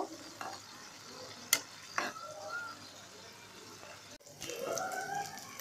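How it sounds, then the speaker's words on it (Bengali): Chicken pieces, seasoned with salt, fry lightly in a pan as a pizza topping, giving a soft, steady sizzle broken by a few sharp stirring scrapes, all close and fairly quiet. "লবণ স্বাদ মতো এবার আমি সব কিছু হালকা করে একটু ভেজে নেব"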